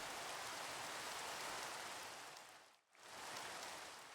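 Steady rain falls in Minecraft, a dense even hiss that cuts out briefly near the end before returning at full strength.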